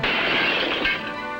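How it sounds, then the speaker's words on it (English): A stone smashes through the window of a teacher's house in a 1954 film, a loud, dense burst of shattering glass with a brief thud before it fades out. "As a stone smashed the window"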